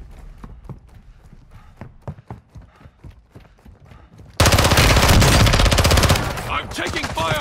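Rapid bursts of loud gunfire fill a video game battle, starting with sparse sharp shots at moderate level and then jumping to a dense, continuous barrage of automatic fire.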